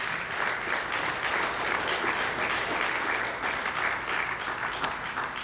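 Audience at a talk breaks into steady, full applause, a dense wash of clapping that holds evenly from start to finish.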